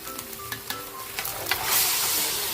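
Squid being stir-fried in a hot pan, sizzling steadily with scattered clicks and scrapes of stirring, the frying hiss swelling louder toward the end.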